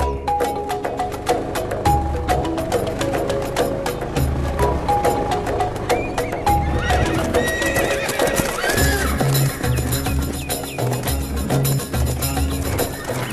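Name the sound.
horses neighing and hooves clip-clopping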